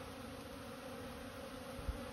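Honeybees buzzing around a thriving hive as swarms return, a steady, continuous drone with no voices and a brief low thump near the end.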